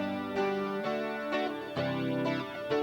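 Electric guitar with stereo chorus effect playing a short run of sustained chords and notes, each change clearly struck and ringing with shimmering, wavering tone, moderately loud and alone.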